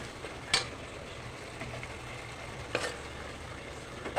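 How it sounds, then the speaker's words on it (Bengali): Spice masala being fried in ghee and oil gives a faint, steady sizzle, broken by a few sharp clicks of a spoon against the pan. "ঘিটা দিয়ে খুব সুন্দর করে একদম তেলের উপরে ওঠা পর্যন্ত আমি মশলাটাকে কষিয়ে নেব"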